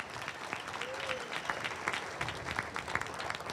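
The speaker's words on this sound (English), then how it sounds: "Let's give them a big round of applause" A school audience applauds at a ribbon cutting ceremony for James Monroe High School, with steady clapping from a crowd that sustains for several seconds at moderate distance.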